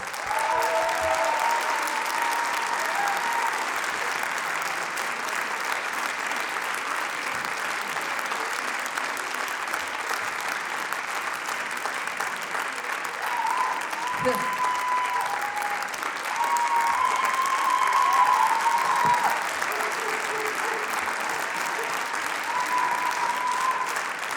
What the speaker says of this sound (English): Is it coming in, this applause?